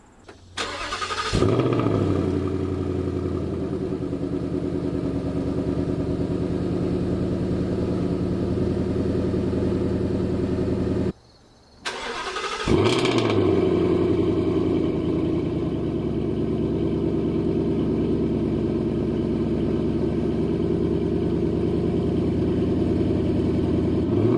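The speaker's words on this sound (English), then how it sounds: "I'm going to do a cold start on the new car" A supercharged S550 Ford Mustang with Whipple supercharger and stock exhaust cranks and fires up on a cold start with a rising roar, settles into a loud, steady idle; after it cuts off, it starts again and keeps idling.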